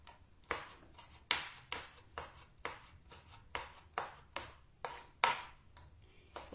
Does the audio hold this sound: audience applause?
no